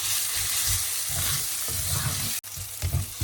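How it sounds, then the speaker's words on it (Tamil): Onions and green chillies sizzle in hot oil in a pan while being tempered for a spicy Sri Lankan beef curry, a close, continuous crackling fry with one brief break near the end. "அதோடு சேர்த்து இந்த மாதிரி பச்சை மிளகாயையும் போட்டுட்டு எல்லாத்தையும் சேர்த்து நல்லா தாளித்து கொண்டிருக்கோம்"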